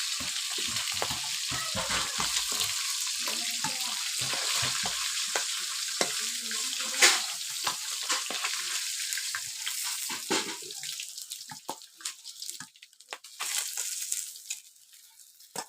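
Local stinging catfish fry in oil with a strong, close crackling sizzle broken by utensil clatter. The frying thins out and fades toward the end.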